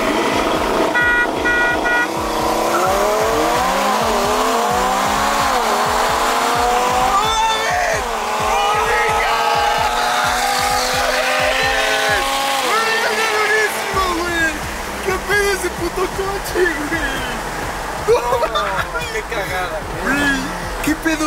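A tuned Audi TT RS of over 600 hp, running on methanol, drag races a McLaren, engines climbing through hard revving gear changes with tire squeal, loud and close, then the note fades as voices talk over the aftermath.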